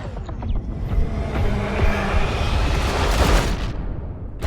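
An explosion in the racing game Need for Speed The Run, a sustained roaring, rumbling blast that swells and crackles for several seconds before cutting off abruptly.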